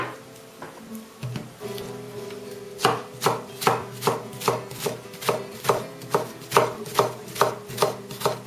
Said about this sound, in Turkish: kıyma kavrulurken biz de hemen bu arada soğanı ince doğrayalım